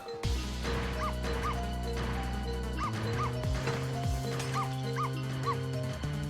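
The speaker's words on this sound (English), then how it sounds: "Our maximum bark." A cartoonish dog barks repeatedly in the Ghost Trick video game, yipping and bow-wowing over a looping musical backing, the barks coming in quick pairs throughout.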